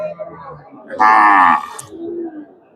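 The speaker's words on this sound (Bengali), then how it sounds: "এই যে গাভিটা দেশি গাভি দুই দাঁতের গাভি" A local two-toothed cow at a Bogura cattle market gives one loud, sustained moo lasting about half a second, standing close and clear over low market chatter and crowd murmur.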